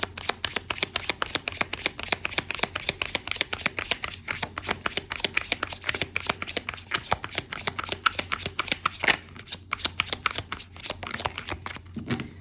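Rebel Oracle cards being shuffled by hand, a rapid, continuous run of close, crisp riffling flicks and slaps with a steady rhythm.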